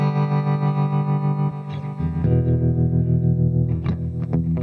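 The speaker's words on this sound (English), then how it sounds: "I quite like a deep tremolo though" Electric guitar through a Boss GT-1000 into a tube amp with a deep tremolo, loud sustained chords pulsing in steady volume throbs, the tone shifting to a new chord partway through, with no talking.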